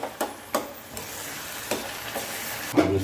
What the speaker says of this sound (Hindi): इसमें आधा 100 ग्राम खोया मैं मिला रहा हूँ